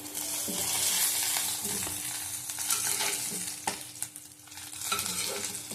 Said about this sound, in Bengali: বেশি কড়া করিনি হালকা ভেজে নিচ্ছি